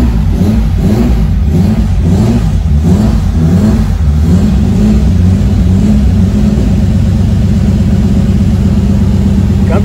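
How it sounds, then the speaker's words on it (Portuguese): A naturally aspirated Chevrolet Opala, a 1973 model, has its engine revved up and down close by, with loud deep throaty surges that settle into a steady rumbling drone. "A peseira me levando pra andar de Opala"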